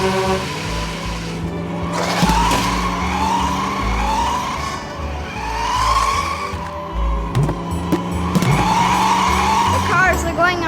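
Toy race cars skid and squeal around red cones, with repeated rising tire-squeal whines over a steady engine drone, joined by faint background voices and sound effects.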